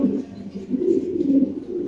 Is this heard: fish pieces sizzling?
no